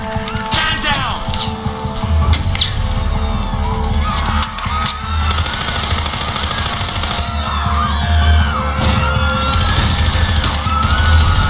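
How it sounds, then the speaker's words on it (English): Sustained gunfire in the video game Act of War: Direct Action, rapid cracks and bursts over a dense, loud battle din with alarm-like tones. "Gunshots reported in the plaza."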